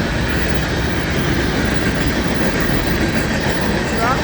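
An FEC intermodal freight train rolls past close by in a loud, continuous rumble with clattering wheels and faint squeals, steady throughout, with a voice speaking briefly over it.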